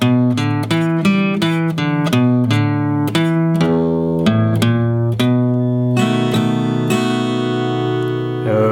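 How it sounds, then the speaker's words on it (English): A guitar plays a slow blues turnaround riff, single notes and double stops stepping along steadily before a final chord rings out. "that cool little turnaround riff."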